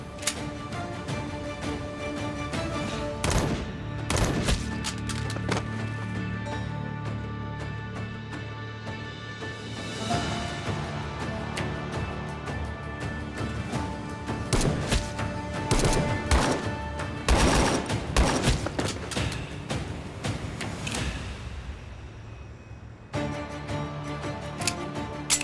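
Gunfire in a battle scene, with loud, sharp cracks and bursts scattered irregularly over a steady roar, some shots clustered in rapid volleys and others single, with several distinct heavy blasts.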